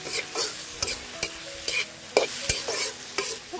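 Soy sauce, tomato sauce and red chili powder stirred in a hot pan for hakka noodles sizzle steadily up close, punctuated by sharp metallic spatula clinks and scrapes at an uneven rhythm, with no talk.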